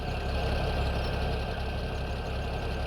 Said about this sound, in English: The tractor is pretty loud